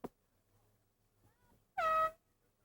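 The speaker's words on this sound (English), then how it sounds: "Substitution is made as we hear the ever-present air horn." A single loud blast of an air horn sounds at a 1993 girls' varsity high school soccer game, held for about half a second after a quiet stretch of faint field noise.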